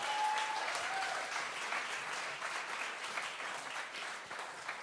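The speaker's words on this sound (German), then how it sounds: "Nochmal, großen Applaus für euch." Audience applause at a live music contest finale after a band's set, a dense, steady wash of many hands clapping that fills the whole stretch at even loudness, with no voices over it.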